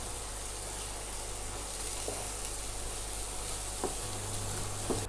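Grated coconut, dry fruits and jaggery sauté in ghee with a soft, steady sizzle, fairly faint, broken by a few light scrapes of stirring.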